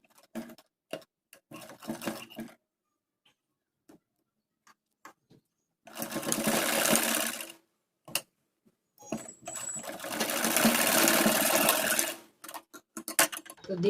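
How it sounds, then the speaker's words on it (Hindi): A sewing machine stitches the shoulder seams of a kurti in two long, loud runs of rapid whirring, separated by quiet gaps filled with scattered clicks and fabric handling close by. "इनके शोल्डरों को इस तरीके से मिलाते हुए इस पर सिलाई डाल देनी है"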